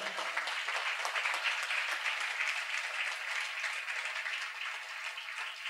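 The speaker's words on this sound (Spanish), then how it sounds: "Dele fuerte ese aplauso al Señor." A church congregation claps in a sustained, even round of applause at moderate distance, with no talk over it.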